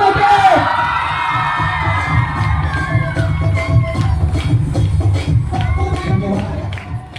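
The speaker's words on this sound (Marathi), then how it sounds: "टाळ्या" A hall full of students at a college teacher-honouring ceremony bursts into loud, continuous cheering, whoops and clapping as an award is handed over, a dense crowd roar that holds at the same level throughout.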